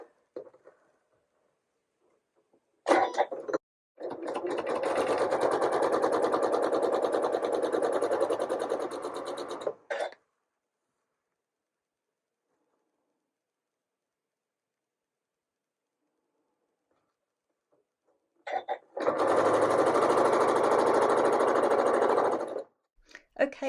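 A sewing machine stitches a quarter inch seam on quilt pieces in two steady runs of rapid mechanical whirring, one of about six seconds and a shorter one later, with near silence between them.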